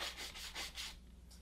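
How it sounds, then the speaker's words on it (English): Ordinary cleaning brush scrubbing the chassis of a RedCat Racing nitro RC car, about four quick, faint bristly strokes in a short rhythmic burst that then fades, with no speech. "An ordinary cleaning brush, like this one found in the cleaning aisle of many stores, works great on the chassis and other large surfaces."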